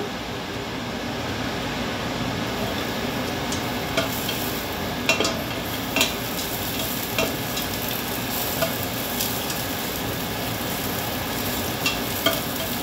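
Garlic sautéing in a pan for Filipino arroz caldo, a continuous close sizzle with occasional light clinks and scrapes of stirring.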